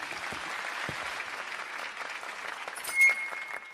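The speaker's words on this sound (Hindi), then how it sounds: "तालियां।" Applause in a Chhattisgarhi comedy dubbing sketch, a fairly steady patter of clapping lasting a few seconds with a brief louder burst near the end.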